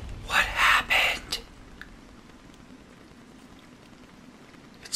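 Steady rainfall in the video game Assassin's Creed Odyssey, a continuous soft hiss under a few loud, brief bursts of sound at the start.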